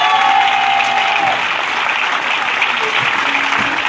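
A church congregation applauding together, with dense, steady clapping that holds at a fairly loud, even level from start to finish.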